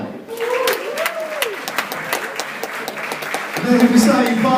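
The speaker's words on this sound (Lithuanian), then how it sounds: "kartu su jūsų aplodismentais gimsta pasaulyje dar vienas šedevras Mindaugas Jankauskas." An audience claps steadily through the clip on a Lithuanian television show, a moderate wash of applause running under a host's voice and swelling near the end.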